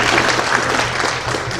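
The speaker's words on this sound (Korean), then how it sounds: "우리 박수 한번 하시죠" Applause from an audience at a Korean launch ceremony for a memorial hall, a dense steady wash of many hands clapping throughout, fairly loud and close, with no voices above it.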